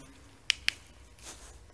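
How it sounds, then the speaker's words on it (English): Opening the trunk of a 2005 Mini Cooper R50 gives two quick sharp clicks close together, followed by a soft release hiss, all quiet and close with no talking. "open the trunk."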